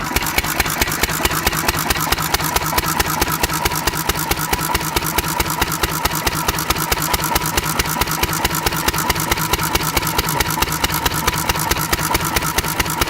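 Small gasoline engine running on fuel topped off with SeaFoam, a steady rapid mechanical chugging close up, loud and continuous throughout with no other sounds.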